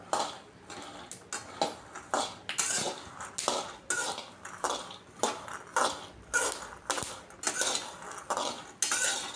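A spoon scrapes and stirs peanuts roasting in a metal pan in a steady rhythm, repeated close clattering strokes with a rattle of dry peanuts, no talking.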